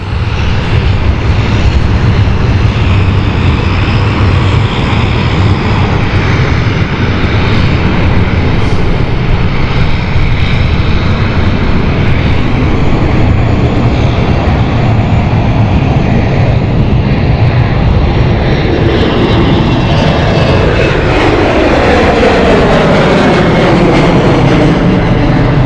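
Airliner bound for Zurich rolling for takeoff at London City Airport, a loud continuous engine roar that holds steady throughout and swells as the aircraft accelerates, with rising and falling tonal sweeps near the end.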